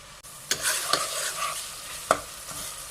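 Sliced ginger and tomatoes fry in a pan with a steady, moderate sizzle, broken by a few sharp stirring scrapes and clicks near the start and middle; no voices.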